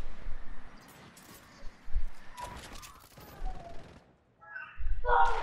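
Gunfire in the video game Fortnite: several sharp, scattered shots and short bursts at moderate level, separated by quieter gaps, with a louder burst at the end.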